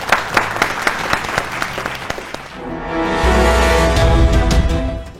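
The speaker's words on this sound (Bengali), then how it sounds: "সবাই একটু জোরে হাততালি" Game show audience applauding in a studio, starting as scattered claps and swelling into a fuller round with a low musical sting underneath for the last couple of seconds.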